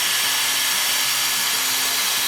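A Dyson Airstrait hair dryer-straightener blowing on high, a loud, steady rush of air with a faint motor whine beneath, unbroken and close.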